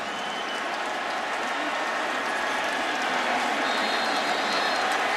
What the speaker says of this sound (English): a roar from the crowd